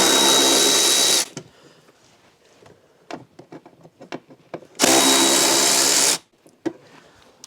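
A power drill backs screws out of the air box on a Polaris Indy 550 snowmobile in two loud, steady whirring bursts of about a second each, separated by clicks and small handling noises up close.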